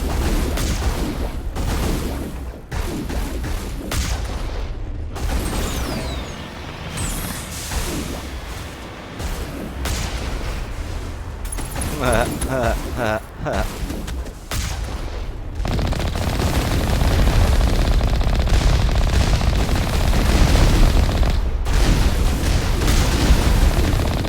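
A missile barrage in Mass Effect: a long run of booming explosions and rattling weapon fire, with brief sharp gaps between heavy blasts, and the rumble builds louder and denser in the final stretch.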